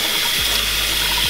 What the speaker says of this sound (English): You then need to run the noodles through some cold water.